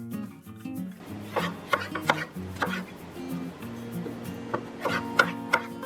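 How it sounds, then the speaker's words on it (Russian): A knife cuts a seeded bell pepper into strips on a board, with irregular crisp chopping taps and soft slicing rubs, fairly quiet and close, with no talking. "Болгарский перец режу соломкой."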